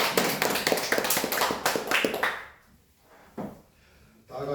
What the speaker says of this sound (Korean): 우리 목사님께 감사 박수 한번.